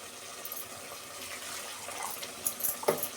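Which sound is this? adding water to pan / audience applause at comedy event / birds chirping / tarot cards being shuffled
adding water to pan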